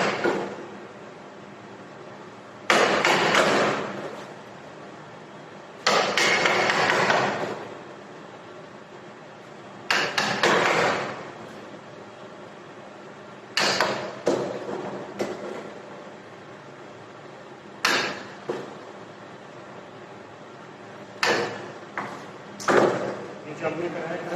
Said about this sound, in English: This operation is called chiseling.